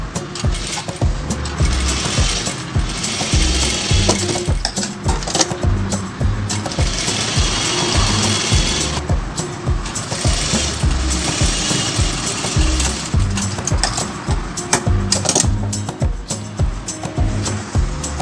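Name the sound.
sewing machine attaching hook stripe to blouse back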